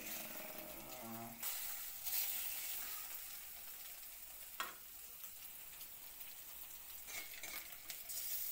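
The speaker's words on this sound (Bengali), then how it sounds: "তারপর ডিমগুলোর ভালো করে ভাজা করতে লাগবো।" Eggs coated with turmeric, salt and chili powder fry in a pan for a Bengali mustard egg dish, a faint, steady sizzle with occasional utensil clinks and stirring.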